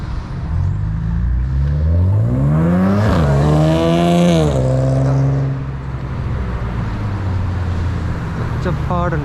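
A loud car roars past on a Toronto road, its engine revving and rising in pitch as it nears, then fading away, heard close from a cyclist's helmet position with no talking.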